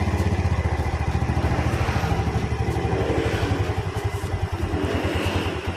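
A motorcycle engine with freshly set valves idles steadily up close, a continuous low, even throb with a slightly clattery mechanical edge and no voices.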